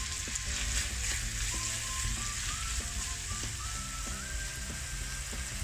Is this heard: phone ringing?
no